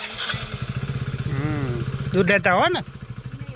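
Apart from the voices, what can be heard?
motorbike being started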